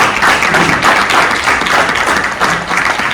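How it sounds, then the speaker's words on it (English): A round of applause for the panel and audience closing a marketing webinar: steady, dense clapping held at even loudness for about three seconds, with no voices over it. "can we have a round of applause for our wonderful panel and our wonderful audience today?"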